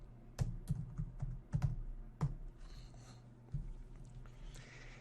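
Keys tapped on a computer keyboard while a password is entered, a handful of separate clicks in uneven rhythm, close and fairly quiet with no voices.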